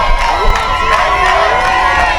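Crowd of children at a sports day cheering and shrieking without pause, a dense wall of high excited voices with occasional louder yells, near and loud.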